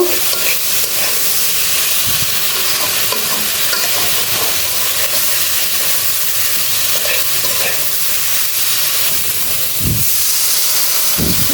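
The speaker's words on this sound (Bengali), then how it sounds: "জল দিয়ে কষিয়ে নিব দেখো সবজিটাও সুন্দর করে কষানো হয়ে গেল" Potato and broad bean pieces sautéing with salt and a splash of water in a pan for a boal fish curry, a loud continuous hissing sizzle with occasional stirring scrapes.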